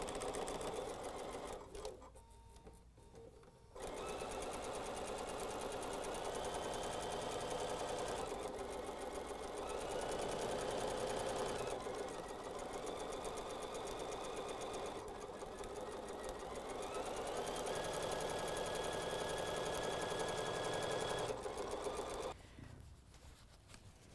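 A sewing machine runs steadily, stitching quilt fabric with a continuous close whirring hum and needle clatter that lasts about twenty seconds, starting and stopping abruptly with brief quiet gaps at each end.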